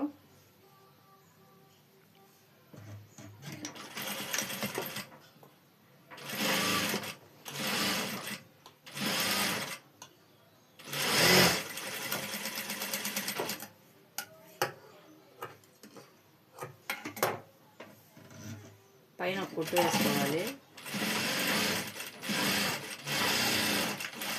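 A sewing machine stitches a blouse in repeated bursts of rapid, rhythmic clatter, with quiet pauses between runs and some faint handling noise.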